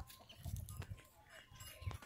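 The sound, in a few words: chickens on a farm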